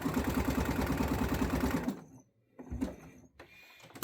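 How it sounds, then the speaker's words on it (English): A sewing machine stitches a small box on waistband elastic, running in a fast steady mechanical whir for about two seconds, then stopping, followed by a few quieter clicks and handling sounds, close up. "And then we sew our box here."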